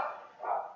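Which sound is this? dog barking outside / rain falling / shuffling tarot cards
dog barking outside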